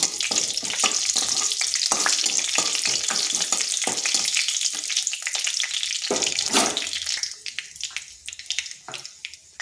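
Ginger and green chilli paste fries in hot oil over whole spices in a pan, a loud, continuous hissing sizzle with stirring scrapes that eases and turns patchier toward the end.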